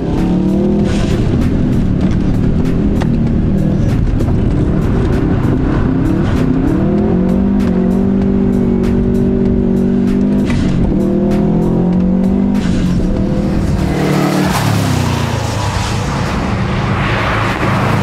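A Subaru STI engine roars and revs continuously while tires squeal and skid drifting on a race track, loud and close, with the engine pitch rising and falling through the drift.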